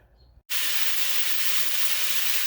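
Chicken fajitas hitting a very hot pan, a sudden loud sizzle that starts abruptly after a brief quiet moment and holds as a steady bright hiss.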